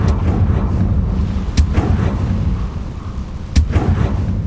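An explosive Confringo spell goes off in Hogwarts Legacy, heard as sharp booming blasts at about 1.6 and 3.6 seconds, loud and close, over a steady rumbling bed of game noise with no talking.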